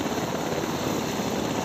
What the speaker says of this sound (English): The Sikorsky UH-60 Black Hawk is a 4-blade, twin-engine, medium-lift utility military helicopter